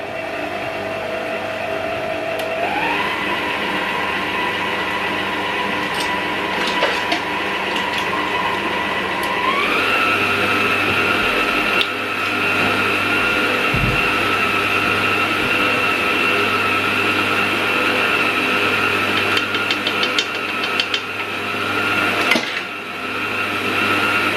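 An electric mixer whisks Victoria sponge cake batter in a steady, continuous whir. Its motor pitch steps up twice as the speed is raised, and no one speaks over it.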